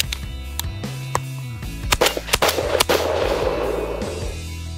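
A Beretta Versamax semi-automatic shotgun firing light target, turkey and pheasant loads, giving several sharp loud reports in quick irregular succession over a low mechanical hum, with no voices.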